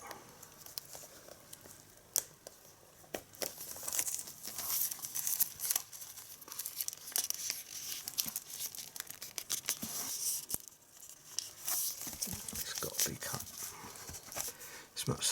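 Plastic wrapping on a Blu-ray digipak is cut open. Close crinkling, tearing and scratchy rustles come in irregular bursts throughout, with faint voice sounds in between.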